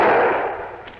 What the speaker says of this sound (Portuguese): De onde vem esse tiro?